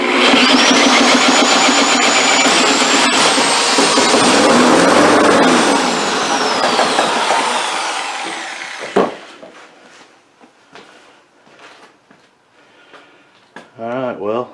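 Old junk-pile push mower engine running loud and close with a rough, sputtering drone for about nine seconds, then dying away into faint clatter and handling noise, with brief speech near the end.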